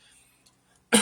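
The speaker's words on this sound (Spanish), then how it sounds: "Perdón por esa tos" A single sharp cough bursts out at the end of a near-silent moment, close and loud, from a man preaching.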